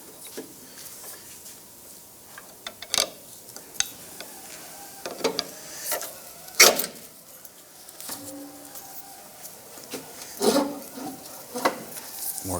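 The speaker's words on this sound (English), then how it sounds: "we're going to go ahead and use our small pry bar" A small pry bar works against a lower control arm on a 2001-2007 Ford Escape, scattered sharp metallic clinks and scrapes at irregular intervals over a quiet garage background.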